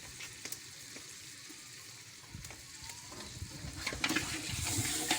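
Tomatoes and green chilies frying in a pot for Lahori chicken biryani, a faint steady sizzle with scattered stirring clatter that grows a little louder toward the end.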